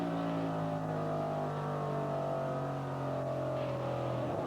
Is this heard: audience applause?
no